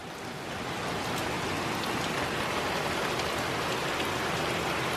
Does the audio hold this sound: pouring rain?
yes